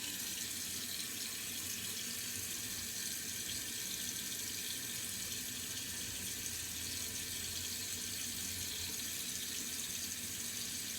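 Cold water runs steadily from a tap at a bathroom sink during a wet shave with a Muhle R41 razor, a continuous hissing stream that stays even and fairly close for the whole stretch, with no talking.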